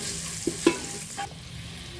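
Chopped carrots and long-cut beans sauté in a pan for wheat carrot noodles, with a low sizzle and a couple of sharp spatula knocks, close and brief.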